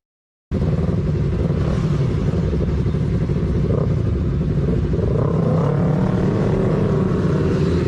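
Motorcycle engines, a Suzuki Raider 150 and a Yamaha R3, roaring loud and close after a sudden start, a dense steady rumble held throughout without talk.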